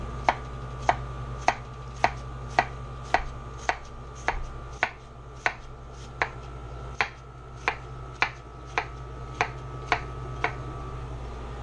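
Knife chopping on a thick white cutting board, about twenty crisp evenly spaced strikes in a steady rhythm, close and clear over a low steady hum.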